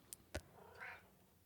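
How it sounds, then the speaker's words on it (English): A pet cat sitting on someone's lap gives a single short, faint meow in a quiet indoor room, preceded by a couple of small clicks. "So if you hear meowing or purring,"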